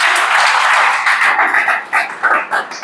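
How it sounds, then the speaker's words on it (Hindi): A class of students in a Chhattisgarh police exam coaching session claps for Raipur, loud close clapping that starts dense and breaks into separate uneven claps toward the end. "ताली बजाओ जी रायपुर के लिए"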